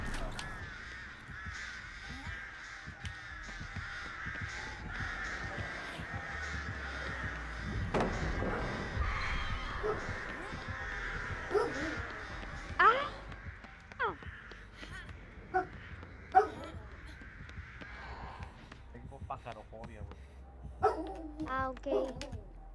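Crows caw repeatedly in a video game, their harsh calls scattered over a droning engine-like background, with barks and a few voices mixed in toward the end.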